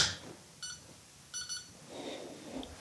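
Two short bursts of electronic timer beeps, evenly spaced, sound at a home coffee tasting while grounds steep, followed by faint low rustling and handling noise; the beeps are clear but not loud.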